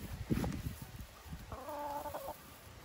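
Chickens on a rural farm clucking, with a few short calls early on and a longer, tonal fowl call in the middle, close and moderately loud over soft background noise.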